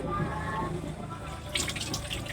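Water runs steadily from a tap during laundry washing, a continuous splashing stream with faint voices in the background.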